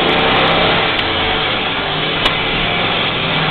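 A 6-liter GMC V8 dump truck engine accelerating under load, heard as a loud, steady, close roar filling the whole clip with little variation and no speech.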